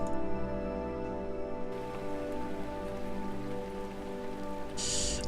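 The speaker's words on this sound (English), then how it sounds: "It's kind of raining" Steady rain falls in the video game Rainswept, a continuous hiss of drops on surfaces at low level, with a constant tonal game hum underneath and a brief brighter burst near the end.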